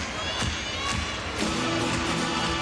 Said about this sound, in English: She's got the crowd clapping in the background.